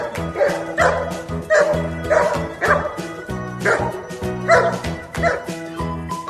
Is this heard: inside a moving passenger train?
no